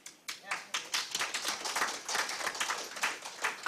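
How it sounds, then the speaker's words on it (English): An audience at a justice roundtable applauds, a burst of dense clapping that stays fairly even, moderately loud, with no talk over it. "I appreciate the applause"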